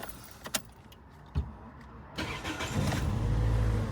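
A few clicks and a key jangle, then a 2013 Toyota Yaris engine cranks and catches, misfiring into a rough, uneven idle that keeps running loudly.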